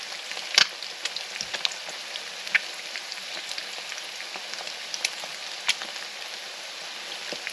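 Over-easy eggs fry in a hot, oiled cast iron pan with a steady close sizzle, broken by scattered sharp pops and crackles of spattering fat.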